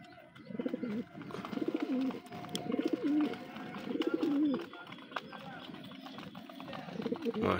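Domestic pigeons, including a young one, coo nearby in the morning at feeding time. The soft throaty coos repeat in a rolling rhythm, close and clear against a quiet background.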